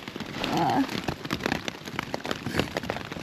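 Rain patters on a tent in steady dense drumming, close and constant, while a person speaks quietly over it near the start.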